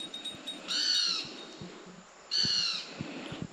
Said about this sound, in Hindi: इतने तोते आ रखे, इतने तोते उन्होंने खराब कर रखा है सारा सिस्टम खा खा के।